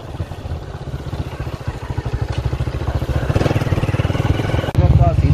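A motorcycle engine chugs close by with a fast, steady rhythmic putter on a mountain road, growing slightly louder, while people talk over it.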